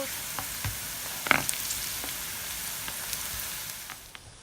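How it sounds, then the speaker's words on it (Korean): Finely chopped onion stir-frying in oil with whole spices and cumin for a dry curry, a soft continuous sizzle with a few scattered clicks of stirring. "여기에 준비한 어, 잘게 다진 양파를 넣고 볶아 주실 거예요"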